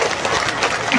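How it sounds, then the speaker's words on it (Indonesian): A crowd at an Islamic sermon gathering in Cilamaya, Karawang gives a brief, dense burst of clapping, close and fairly loud, lasting only a moment. "Tepuk tangan dulu dong buat al-khairiyah."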